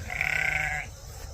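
A single sheep bleats on a Kansas farm, one clear, wavering call lasting under a second, fairly close, followed by faint outdoor background noise.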